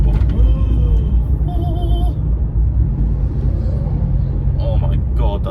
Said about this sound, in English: Renault 5 Turbo.